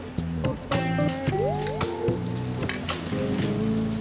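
A spice-rubbed brined turkey breast sizzles on a hot grill, a loud continuous close hiss and crackle with sharp pops and spatters over a low hum.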